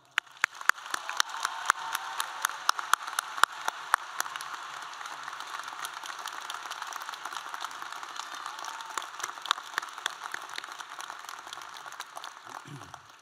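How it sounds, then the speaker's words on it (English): Applause at a 2022 undergraduate commencement ceremony, steady clapping from a large audience with distinct sharp claps standing out near the microphone, lasting over ten seconds before fading as a voice begins. "Please join me in a round of applause for Fred."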